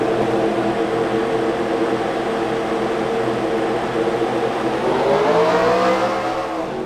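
Several race cars in a racing video game roll off and accelerate together, a steady droning engine roar with rising pitch sweeps near the end, loud and continuous with no talk over it.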